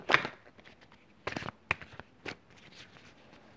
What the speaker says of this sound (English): A lot of these cards jump out because I can't shuffle.